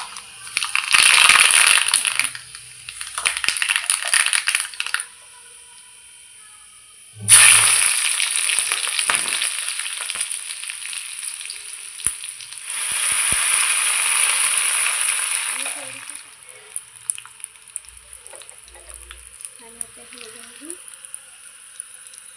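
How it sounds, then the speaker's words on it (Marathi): Tempering spices (phodni) sizzle in hot oil while dhokla is finished in a home kitchen; loud bursts of frying hiss flare and die down in several waves, with a quieter stretch toward the end. "तर आता मी फोडणी देते."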